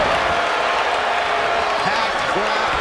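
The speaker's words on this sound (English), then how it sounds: "Packed crowd." A packed arena crowd in the wrestling video game WWE 2K24 roars and applauds continuously, a dense wash of cheering with a commentator's voice talking over it.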